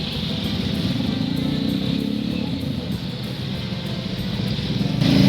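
A motorcycle engine, the bike recently involved in an accident, runs with a steady low drone up close, holding even and swelling slightly louder at the very end.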